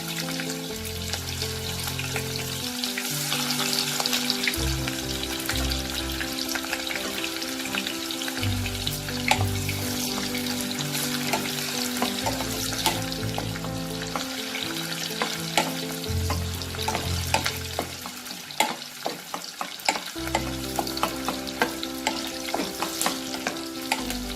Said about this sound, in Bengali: একটা পেঁয়াজ একটু বেরেস্তা করে নেব।